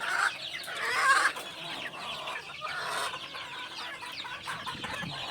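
Several gamefowl cockerels cluck and chatter continuously nearby at a game farm, overlapping calls rising and falling over a busy outdoor background, with no speech.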